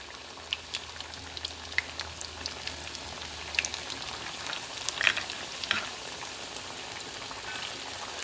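Plantains for tostones frying in hot oil, a soft, steady bubbling hiss dotted with small crackles and pops, fairly quiet and with no voices.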